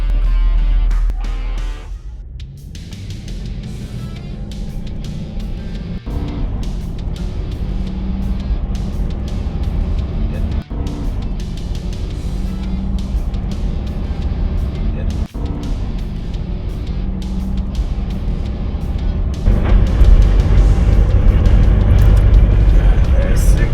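A Lexus LX 470 Land Cruiser accelerates hard to 60 mph, its engine a steady low drone that rises and swells near the end, heard from inside the cabin with no talk.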